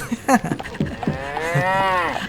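A cow in the video game Survivalcraft 2 gives a loud, drawn-out moo close by, preceded by short game noises.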